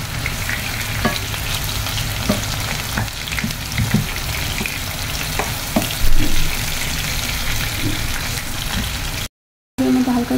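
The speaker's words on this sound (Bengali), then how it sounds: "এরপরে পেঁয়াজটাকে ভালোভাবে একটু লাল করে নেব।" Small onions fry in a pan for dried hilsa, with a constant loud sizzle and intermittent stirring scrapes, and a voice speaks over the hiss.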